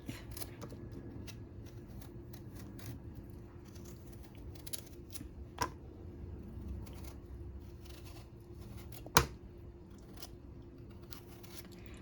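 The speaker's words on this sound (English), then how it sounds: "I want to show you real quick how I'm gonna clean the squash. So we're gonna just peel it." A squash being peeled by hand for a stir fry, soft repeated scraping strokes in a steady irregular rhythm, close but very faint over a low hum, with an occasional sharper tap.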